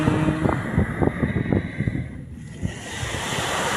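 Sea waves wash onto the seashore at midday, a steady broad rush of surf mixed with gusts of wind buffeting the microphone, fairly close and with no talking.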